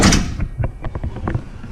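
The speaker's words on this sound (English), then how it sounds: "Let's shut the doors." Doors on a Blue Bird Vision school bus close from inside the interior: a loud initial thud, then a run of short mechanical clicks and knocks that settle quickly.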